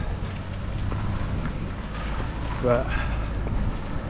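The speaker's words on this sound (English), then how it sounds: "it's really bloody windy again, and it's a headwind" Strong headwind roars across the microphone as someone scooters along a UK road without a motor, a constant broadband buffeting that masks everything, with a brief spoken word cutting in near the end.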